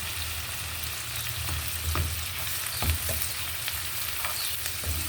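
Cauliflower sautéing in a frying pan for a ginisang cauliflower dish, a steady close sizzle with scattered stirring scrapes and clicks of a utensil against the pan.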